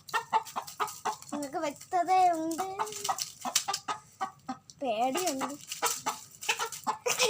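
A chicken clucks repeatedly while fighting a snake, its agitated calls rising and falling in pitch, mixed with someone talking throughout.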